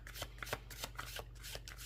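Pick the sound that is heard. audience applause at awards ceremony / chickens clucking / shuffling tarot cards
shuffling tarot cards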